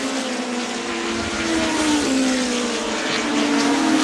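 Race cars lapping a NEMA track, a loud, sustained engine drone with rising and falling tones as cars pass near.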